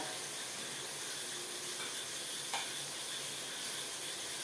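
Ginger garlic paste fries in a pan with a faint, even sizzle and steady hiss, broken only by one small tap.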